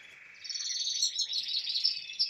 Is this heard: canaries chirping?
yes